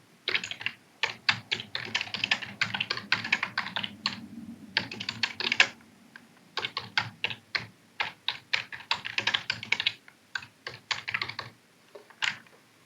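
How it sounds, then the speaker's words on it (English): Steady bursts of typing on a computer keyboard, close and clear, with rapid key clicks broken by short pauses and no talking over them. "Or I can come in and just type it myself."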